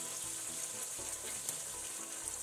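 Chicken browning in a pan, a soft, continuous sizzle and crackle of frying at low volume with faint stirring, no voices.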